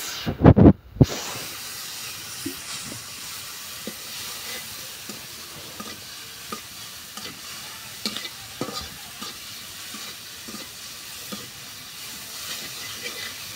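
Ground spices (salt, coriander, turmeric) fry in a pan with a soft continuous sizzle and hiss, punctuated by light scraping stirs; a sharp louder clatter comes at the very start, then the sizzle continues quietly and steadily.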